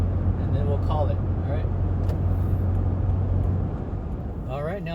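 A Toyota FJ Cruiser drives steadily along a road, its engine and tyre noise forming a constant loud rumble throughout, with a voice talking briefly at the start and again near the end.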